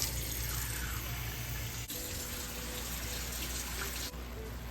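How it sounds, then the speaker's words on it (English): Water is poured steadily from a tap or cup into a pot of one-pot Mongolian beef ramen, giving a continuous close splashing rush that runs for several seconds. "add about another half a cup of water"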